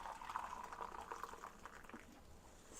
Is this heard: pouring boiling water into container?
yes